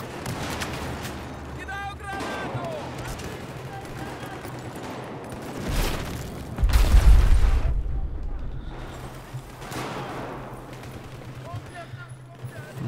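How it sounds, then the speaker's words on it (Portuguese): A big explosion goes off in the shooter game Battlefield 4: a deep, booming burst about midway that rolls off slowly, amid scattered gunfire and faint voices. "Bom que já teve explosão aí pra vocês verem."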